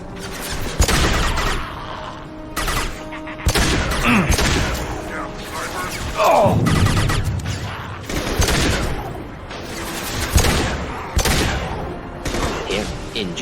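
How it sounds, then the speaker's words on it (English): Gunfire from the video game Mass Effect 2: repeated bursts of shots and booms across the whole stretch, loud and dense, with game effects and some voices mixed in. "Firing a high-impact shot."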